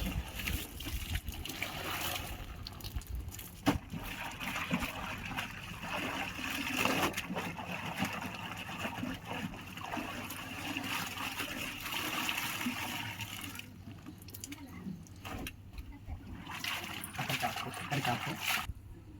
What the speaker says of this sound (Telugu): 3 బకెట్ నీళ్ళలో నీట్గా జాడించేస్తాను